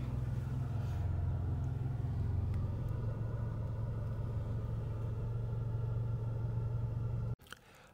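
Inside a moving car in Georgia, a steady low engine and road rumble drones continuously and fairly quietly, then cuts off abruptly near the end with a brief thump.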